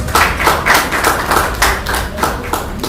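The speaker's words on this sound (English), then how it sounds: "Can we just give him a round of applause?" Clapping during an architecture fireside chat, a fairly close group of hands beating in rhythmic, slightly pulsing bursts rather than a large crowd's wash.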